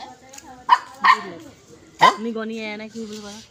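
A dog gives three or four sharp, loud barks spaced about a second apart, close by. A person then talks over a steady tone.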